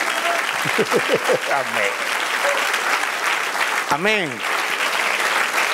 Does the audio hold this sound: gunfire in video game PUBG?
no